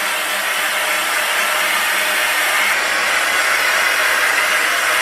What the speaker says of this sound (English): So we're just gonna rough dry this to about